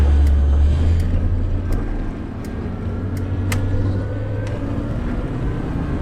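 A steady, loud old van engine drone with a low hum and faint rattling clicks, continuous throughout.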